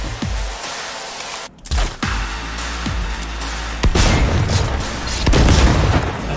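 Gunfire in the video game Cyberpunk 2077, several sharp booming shots spaced irregularly with denser bursts toward the end, loud and close, with no talking.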